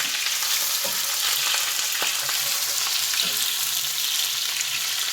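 Two medium onions sizzle and fry in hot oil in a pan, a loud, steady crackling hiss with a few faint stirring knocks, close and without speech.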